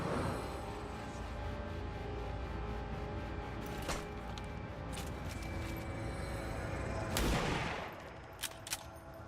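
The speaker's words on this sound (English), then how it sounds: "let's just go ahead and start shooting at these guys" Rapid gunfire bursts from the turn-based game XCOM 2 crackle over a dense, steady bed of battle noise, with two sharp blasts standing out, one near the middle and a heavier one toward the end.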